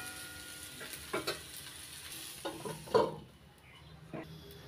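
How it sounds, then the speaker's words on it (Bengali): Cauliflower florets, fried until lightly reddened, hiss and sizzle in a pan while being stirred, with a few scraping clacks of the spatula, then the frying quiets to a softer simmer near the end. "ফুলকপিগুলো হালকা লাল করে ভেজে নিয়েছি"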